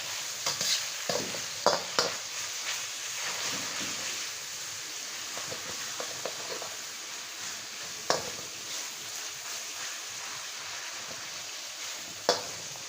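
Beef stir-frying for Thai basil beef, a soft continuous sizzle in the pan broken by sharp clatters of a spatula scraping and tossing the meat at irregular intervals, with no talking.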